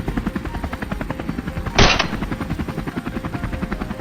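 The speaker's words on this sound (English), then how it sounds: "We quickly maneuvered the helicopter into position," A helicopter's rotor beats in a fast, steady throbbing rhythm, loud and close, with a brief burst of hissing noise in the middle.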